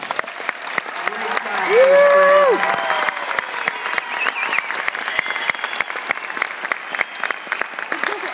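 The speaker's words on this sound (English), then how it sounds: "let's give them one more round of applause." Audience at a fourth-grade school Christmas concert gives the children sustained applause, a full room of clapping with a brief tonal sound early on and some faint talk mixed in.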